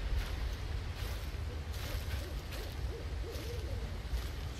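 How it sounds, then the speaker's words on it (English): An owl hoots repeatedly at night in the game Slender: The Arrival, soft and somewhat distant calls over a constant windy, rustling outdoor ambience. "Shut up, owl."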